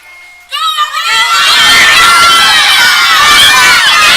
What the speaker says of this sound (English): The crowd upstairs now is getting louder and louder in each race here